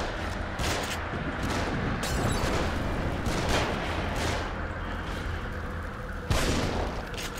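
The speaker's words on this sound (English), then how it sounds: "They're shooting from above." Enemy gunfire in The Evil Within, a PC survival horror game, shots coming from above: a dense, continuous barrage of booming reports with several sharper bursts, loud and steady throughout with no speech.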